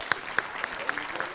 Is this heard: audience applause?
yes